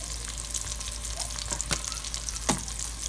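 Kielbasa with chili powder and paprika sizzles steadily in a pan while being stirred for jambalaya, a constant close frying hiss broken by a few scraping clicks of the spoon.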